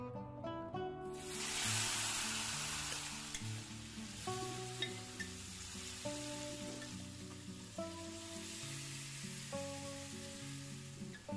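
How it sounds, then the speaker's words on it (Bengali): Marinated raw jackfruit fries with whole garam masala, a dried chilli and bay leaves for a prawn dish, giving a steady close sizzle with repeated stirring scrapes and clinks throughout. "খুব ভালো করে সব মশলার সাথে ভেজে নিতে হবে।"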